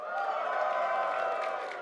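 An audience at a convention cheers and shouts together in a steady, sustained roar that fills the room, loud and dense from start to finish with no single voice standing out.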